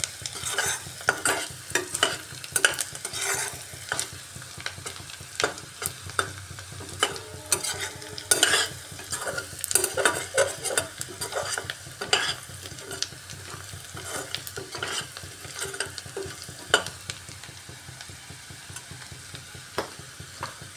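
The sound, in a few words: onions frying in a pan until browned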